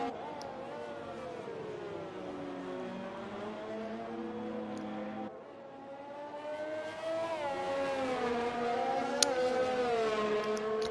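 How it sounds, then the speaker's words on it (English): Formula 2 race car in a racing game heading out onto the track, engine note rising and falling through gear changes as it pulls away at low speed, steady and moderately loud. "the first one to go out is the McLaren from Amadi."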